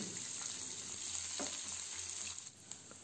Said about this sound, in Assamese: আৰু পিঁয়াজখিনি মই কালাৰটো অলপমান গোল্ডেন হোৱালৈকে ভাজি ল'ম